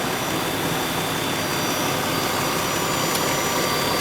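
A 2017 Nissan Murano's 3.5 liter 24-valve V6 engine runs steadily, heard as a loud, even broadband whir and hum with no change in pitch or rhythm.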